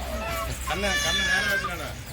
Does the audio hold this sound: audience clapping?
no